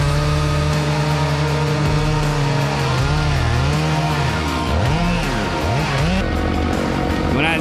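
A chainsaw bores into a sycamore tree to cut the hinge, its engine roaring loudly and close throughout, pitch dipping and rising as the bar loads and frees in the wood.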